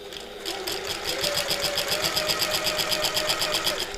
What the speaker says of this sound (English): So I'm just going to top stitch now.